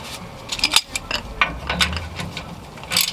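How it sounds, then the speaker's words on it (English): A ratchet wrench removes the last bolt of a Ford F-150/F-250/F-350 rear differential cover, producing close, rapid clicking bursts in short uneven strokes, loud and unaccompanied by talk. "you can go on ahead and remove that last bolt that you have up in there"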